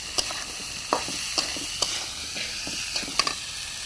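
Chickpeas fry in a pan with chili powder and ginger-garlic paste, a steady close sizzle with a handful of sharp crackles and pops spaced through it.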